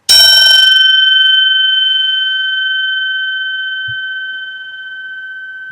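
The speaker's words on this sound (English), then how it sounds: "So I'm going to ring a gong and center myself and connect myself." A gong is struck once, giving a bright, sustained metallic ring that fades slowly over several seconds, with nothing else heard alongside it.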